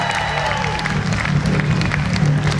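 Concert crowd at an Avar pop music show claps and cheers, a moderate burst of applause mixed with crowd murmur and some tonal background sound.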